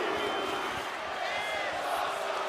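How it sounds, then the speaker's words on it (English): Virtual arena crowd in the WWE 2K25 wrestling game chanting after a table spot, a broad steady roar of many voices heard faintly at a distance. "The crowd is chanting, "This is awesome.""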